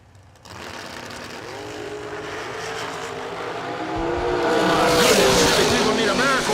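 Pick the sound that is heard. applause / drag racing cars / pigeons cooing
drag racing cars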